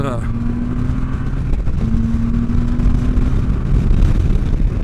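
A 2015 Can-Am Spyder three-wheel motorcycle runs loud and close on the road, its steady engine drone holding a sustained pitch with gentle rises.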